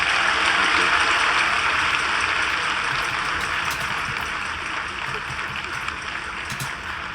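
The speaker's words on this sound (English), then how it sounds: "Can we give them a round of hands, applause?" A church audience applauds at a service honoring the senior pastors, a dense, steady wash of clapping that holds fairly loud throughout and eases off slightly toward the end.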